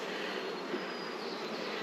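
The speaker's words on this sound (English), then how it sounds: "Lots of bees in here." Honeybees drone inside an open hive during an inspection for a virgin queen, a close, unbroken buzzing hum that stays level and unchanging throughout, with no voices.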